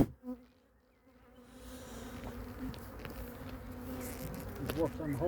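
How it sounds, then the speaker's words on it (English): Honeybees buzz around an open hive box during an inspection for queen cells, a steady close droning hum that swells and wavers with passing insects, faint at first and building louder toward the end. "There's actually a bee on the back of the camera."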